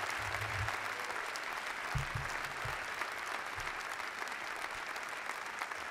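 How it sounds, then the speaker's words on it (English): Applause from the audience during a mayor's State of the District address in Washington, D.C., sustained, even clapping at moderate distance with no clear speech over it. "Give them a round of applause."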